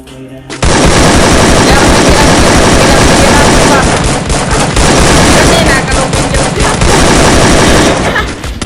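Rapid gunfire in the Free Fire battle game during a tournament, loud dense bursts of automatic shots and booms running almost continuously, with a voice faintly underneath.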